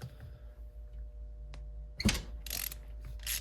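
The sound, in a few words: loosening 12mm bolts on a 2003 car engine mount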